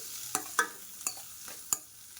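Jackfruit seed curry being stirred with turmeric in a pan, a few distinct scraping clinks of a spoon against the pan spaced about half a second apart, quiet and close with no talking.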